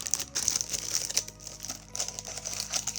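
Plastic foil wrapping on a boxed reissue of the first Secret Service magazine from Retronics is handled, giving a close, continuous crinkling and rustling throughout.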